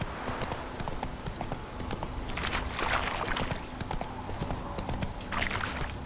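Roach, Geralt's horse in The Witcher 3, gallops with a rapid, continuous clip-clop of hooves, close and fairly loud, and a voice is faintly heard over it.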